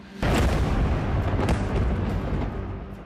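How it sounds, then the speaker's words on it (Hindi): Explosions from Israeli drone strikes in Beirut: a sudden heavy boom followed by a sustained deep rumble, with a few sharper bursts within the roar, loud and close. "बेरूत में इजरायली ड्रोन के सीरियल धमाके हो"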